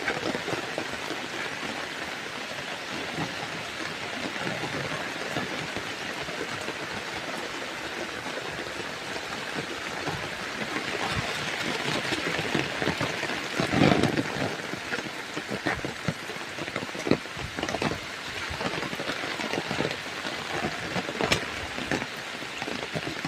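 Heavy rain pours down beside a house where a side drain has burst and floodwater overflows, a dense, steady hiss and patter that stays close and loud for the whole stretch with no voices.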